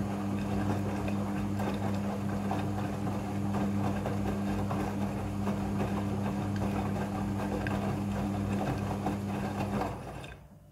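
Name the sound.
Midea front loading washing machine rinse cycle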